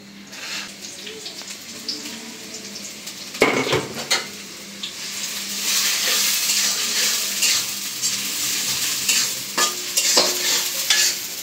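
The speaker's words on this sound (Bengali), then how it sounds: "পেঁয়াজটা একটু ভাজা নেব।" Chopped onion sizzles in hot oil with whole cardamom, cinnamon, cloves and black peppercorns, making a steady crackle. A spatula scrapes and clinks against the pot several times, and the frying grows louder partway through, with no voices.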